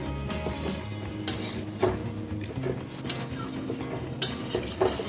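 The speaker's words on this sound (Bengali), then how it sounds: "নাড়িয়ে ভালো করে মিক্স" A spoon stirs a potato and brinjal curry in a pan, with soft scraping strokes and a few sharp clinks against the metal at a steady, unhurried pace.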